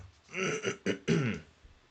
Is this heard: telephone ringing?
no